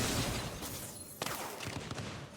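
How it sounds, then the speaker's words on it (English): A hypercharged plasma cannon in the tower defense game Axon TD: Uprising fires in a rapid, dense barrage of crackling blasts, loud and continuous, with a brief lull midway before the volley resumes. "I'm going to hypercharge this plasma cannon now that it's getting looks in."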